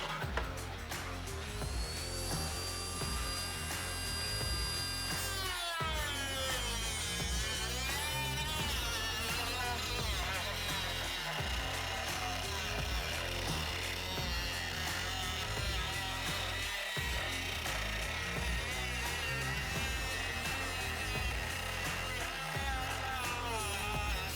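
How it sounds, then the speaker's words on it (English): A Dremel with a cutoff wheel slices through the plastic housing of a Fox Body Ford Mustang taillight, giving a continuous high-pitched grinding whine with a few short pauses and dips in pitch as the cut proceeds. "we're gonna use a Dremel with a cutoff wheel on it"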